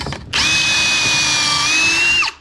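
Power drill cutting a pocket hole in reclaimed pallet wood: a single loud, steady whining burst lasting about two seconds, close to the microphone, starting sharply and winding down at the end.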